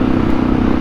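Kawasaki KLE500 motorcycle engine running rich on its carburettors, a loud steady idle or cruise drone with a low throbbing tone and no rise in pitch, heard alone for under a second.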